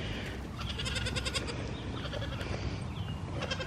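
Nigerian Dwarf goats bleating close by on a homestead, a busy overlapping chorus of repeated bleats running throughout over steady background noise.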